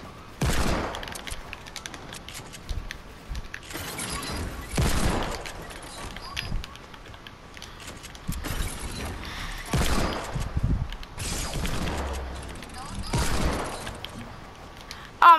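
Scattered gunshots and building or weapon mechanics in a Fortnite match, coming in separate loud bursts every couple of seconds over a low background of game noise.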